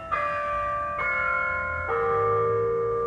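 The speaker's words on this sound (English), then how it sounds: "the bells say it's 1:15" Church bells ring out in three successive strikes, each tone sustaining and overlapping with a rich, resonant hum.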